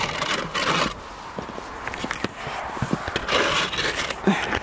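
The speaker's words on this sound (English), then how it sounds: "I use the pitchfork to rake it." A pitchfork rakes across an icy winter paddock, making rough scraping and rasping bursts close by, with some quieter scratchy movement between the louder strokes.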